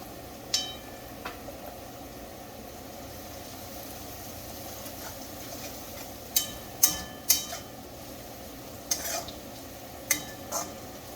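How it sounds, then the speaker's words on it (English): Spices including red chili powder and garam masala fry in a pan while being stirred, giving a faint low sizzle with several sharp scrapes and clinks of the spoon against the pan. "Stir it pretty good"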